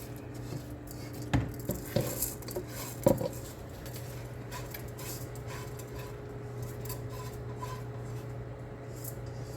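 A spoon scraping and knocking against a pot while six cups of rice are stirred into mutton biryani, a few sharp clanks early on over a low steady hum, with no talking.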